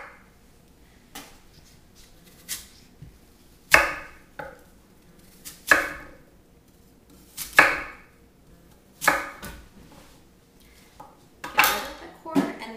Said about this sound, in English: So the easiest way I found to do this is just cut around the core.